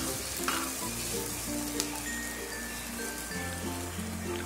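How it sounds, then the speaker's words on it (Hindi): Capsicum and carrot frying in a pan for Jain veg spring rolls, a dense even crackling sizzle like light rain, steady and fairly close, with a faint hum underneath and no talk. "और ये जो हमने शिमला मिर्च काटी थी उसको डाल देंगे सबसे पहले, जिससे ये हल्की सी भुन जाए।"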